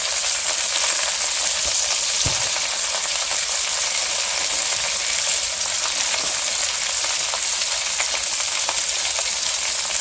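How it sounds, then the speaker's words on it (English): Chicken thighs sizzling loudly in a pan after wine is added, a dense, steady, close crackling hiss that holds evenly throughout with no speech. "Then I'm going to add a little bit of wine."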